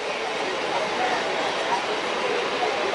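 Steady rumbling roar of a moving Mumbai suburban train heard from inside a carriage, constant and fairly loud with no distinct clacks standing out.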